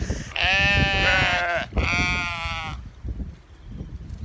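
Two long, loud bleats from a recently sheared sheep sound close by in a garden, one after the other, followed by quieter outdoor background.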